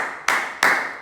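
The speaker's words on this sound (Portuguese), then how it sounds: "nas palmas, eu tenho essa palma" Two sharp, bright hand claps about a third of a second apart, close and clear with nothing else around them.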